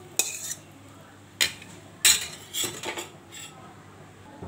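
A cooking pot of okra and potato lifted off a gas stove, several sharp metallic clanks and scrapes of pot and utensils spaced over a few seconds, close and crisp, with quiet gaps between.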